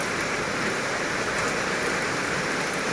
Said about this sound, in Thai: ฝนผัดมาอีกแล้ว